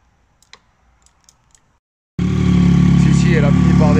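A van engine on a weak, low battery, jump-started with cables, catches and settles into a loud, steady idle after a few faint clicks and a quiet pause.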